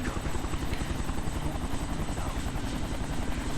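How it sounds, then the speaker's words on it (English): A helicopter in the Kane and Lynch 2: Dog Days video game thunders close by, its rotor producing a steady, loud, rapid chopping throb that fills the whole clip without any talking. "When the helicopter comes past, we want to shoot it."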